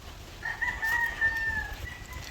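Black Australorp hens on a farm make a faint, thin call that holds through the middle of the clip over a low, rumbling background.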